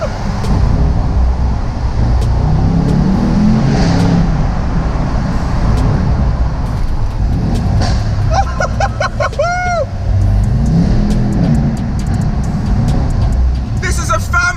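Mercedes-AMG E63 S family car with a V8 engine rumbling loudly and steadily inside a tunnel, a deep continuous roar with a sweeping whine near the middle, with a person talking over it.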